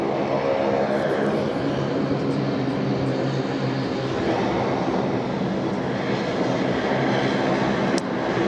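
Aircraft engines at Sydney Airport hum and roar as a steady, broad wash of noise from a distance, holding even throughout with a faint click near the end.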